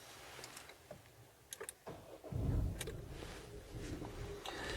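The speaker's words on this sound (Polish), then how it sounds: "odpalamy silnik?" A Dacia Duster II petrol engine cranks and catches, then settles into a steady low idle, heard from close by after some small clicks and mechanical noises.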